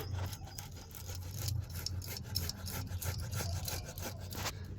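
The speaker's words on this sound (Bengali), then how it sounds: "এই আলুগুলোকে আমি প্রথমে একটু গ্রেট করে নেব" Boiled potatoes rubbed against a grater in quick, repeated rasping strokes, fairly faint and close, with no talking.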